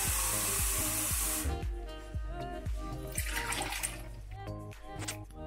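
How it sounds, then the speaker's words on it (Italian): Water runs from a tap to fill a container for tomato preserves: a loud rushing hiss first, then a steadier gurgling flow with rhythmic knocks, close by. "andiamo a riempire con acqua"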